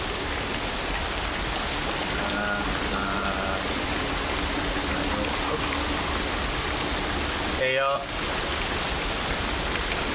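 A waterfall in the video game Dear Esther gives a loud, constant rushing hiss of falling water, with a voice speaking briefly over it.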